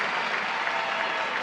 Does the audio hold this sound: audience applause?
yes